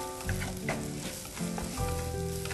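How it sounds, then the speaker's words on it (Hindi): Sprouts and paneer-style tofu tossed in butter in a hot pan, sizzling steadily and close with a few stirring scrapes and swells of frying. "स्प्राउट्स, इसको भी हल्का सा टॉस करना है"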